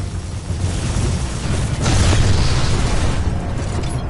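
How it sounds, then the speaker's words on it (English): A deep, rumbling explosion in the video game Titanfall 2 roars loudly and continuously, swelling midway with no voices over it. "I love it. I love the explosion."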